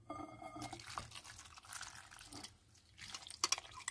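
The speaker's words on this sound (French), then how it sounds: "Versez la sauce" Sweet-and-sour salad dressing made with sugar and vinegar is poured over carrots and onions in a container, giving soft liquid trickles and drips with a few brief splashes, quiet and close.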